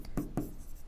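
Chalk or marker writing on a board during a chemistry lesson on laws of chemical combination, heard as two short scraping strokes close by in a quiet room.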